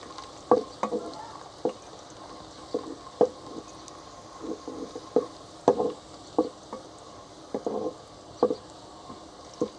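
Chopped onion and garlic fry in a pan with a soft background sizzle, broken by irregular scraping stirs and clinks of the spoon every second or so.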